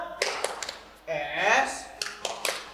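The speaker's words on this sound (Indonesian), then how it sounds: "Tepuk semangat." Two people play the rhythmic tepuk semangat clapping game, sharp close hand claps and taps in quick patterns alternating with a sung chant.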